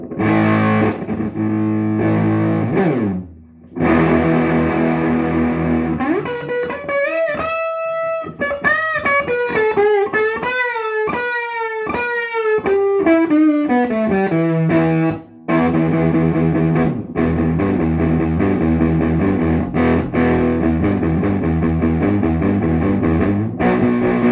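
Electric guitar through a heavy distortion pedal, chugging chords with a long stretch of swooping, bending sustained notes in the middle, loud and close.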